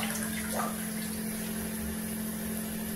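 Hot water pours and collects in a tub for a bath, a continuous close gushing flow over a steady mechanical hum, with no speech.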